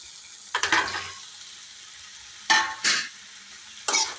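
Pasta is stirred in a hot pan, giving three separate bursts of scraping and soft sizzle, one early and two close together near the end, over a quiet background.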